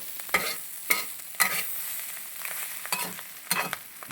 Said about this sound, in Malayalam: ഇളക്കുന്നു ഇളക്കി കൊടുത്തുകൊണ്ടിരിക്കുന്നു ഇങ്ങനെ അടി പിടിക്കാതെ ഇളക്കി കൊടുക്കണം